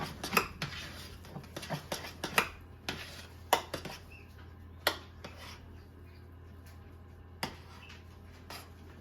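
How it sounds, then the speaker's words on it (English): Pork chop side dishes stirred in a pot with a utensil, sharp scraping clinks and taps against the metal, scattered and irregular, loudest in the first few seconds then sparser, with a steady low hum beneath. "Give these a good stir again."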